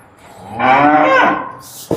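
A single cow at a dairy farm lets out a loud, drawn-out moo close by, rising and then fading, followed by a brief knock.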